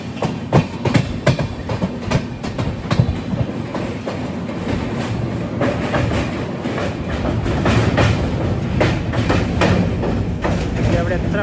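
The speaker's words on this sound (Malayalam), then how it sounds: "KSR Bengaluru Kanyakumari island express ഇതാ വരികയാണ്" KSR Bengaluru–Kanyakumari Island Express rolling past on Indian railway track: a loud, continuous rumble with rapid clattering wheel clicks over the rail joints, growing slightly heavier toward the end.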